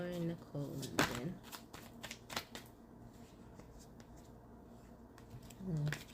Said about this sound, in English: Shuffle those one more time.